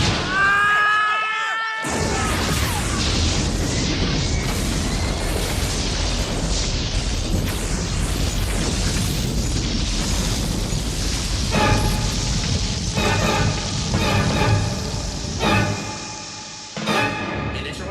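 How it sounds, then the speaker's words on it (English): Sci-fi Kryptonian disruptor weapon fires with a rising whine, then a huge sustained explosion roars for many seconds, fading into a rumbling shockwave with pulsing, ringing tones near the end; loud and close. "Great Rao, a Kryptonian disruptor."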